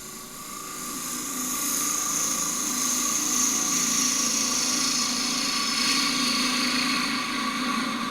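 A wood lathe spins an end-grain wooden box while a gouge cuts, giving a steady whirring hum with a continuous hissing cutting tone, rising in the first second and then holding level.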